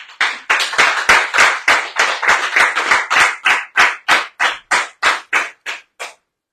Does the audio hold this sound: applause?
yes